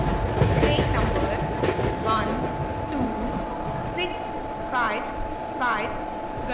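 Indian WAP-5 electric express train pulling into a station platform: steady rumbling rail noise with a constant electrical hum, brief horn-like tones and screeches near the end, and no talk during the clip.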